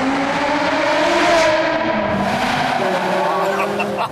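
Close, sustained high-pitched race-car engine wail as a car speeds flat out on the Autobahn at night, the pitch holding steady with slight shifts, loud and alone without talk.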